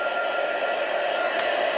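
A heat tool blows a steady, close, loud whooshing hum while warming white embossing powder over Versamark ink for heat embossing, running on without a break.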